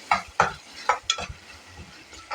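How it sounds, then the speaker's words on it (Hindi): Tinda (round gourd) stuffing with green chillies stirred and fried in a pan, giving a soft continuous sizzle broken by several sharp scraping strokes of a spatula, close and fairly quiet, with no talk. "1-2 मिनट के लिए आप इसे और भून लें ताकि जो हरी मिर्चों का टेस्ट है वो इसमें शामिल हो जाए।"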